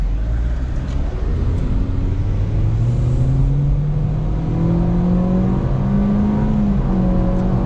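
A 2023 Acura Integra A-Spec engine revs hard toward redline, climbing steadily in pitch to a high, straining whine, loud and close from inside the car.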